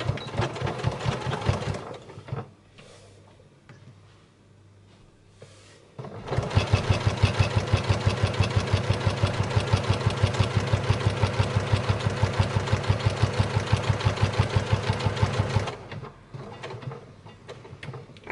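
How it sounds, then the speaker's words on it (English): A sewing machine stitches binding onto a fabric machine cover in a rapid, even mechanical chatter, with brief short bursts at first and then a long sustained run before slowing to a stop. "I'm going to sew my binding, and I'm going to stop a quarter of an inch away"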